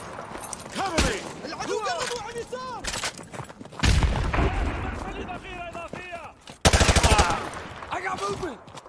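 Gunfire in the Modern Warfare 2 Campaign Remastered, loud bursts of automatic fire and booms mixed with shouted soldier commands and radio chatter throughout.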